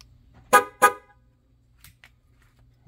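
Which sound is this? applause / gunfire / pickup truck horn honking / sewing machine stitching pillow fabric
pickup truck horn honking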